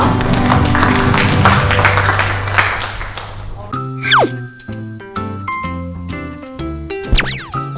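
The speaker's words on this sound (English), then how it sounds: "Give yourself a round of applause." A round of applause, a loud burst of dense clapping for a few seconds, gives way to bright musical jingles and cartoonish boing-like sound effects.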